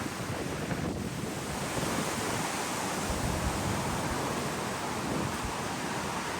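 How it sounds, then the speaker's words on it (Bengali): Strong wind tears through trees, a constant loud rushing roar that buffets the microphone throughout, with no voices. "পুরো গাছপালা ভেঙে নিয়ে চলে যাচ্ছে বাতাসে"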